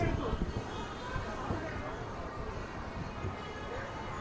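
A decorated Amrit Bharat Express on the Thiruvananthapuram to Mangaluru run rolls along with a continuous low rumble and rattling of wagons, heard from nearby with voices talking over it.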